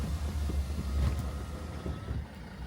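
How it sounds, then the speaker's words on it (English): Low, steady engine rumble heard from inside a car, a constant muffled drone with faint wind-like hiss and no clear speech. "We're practicing in the car."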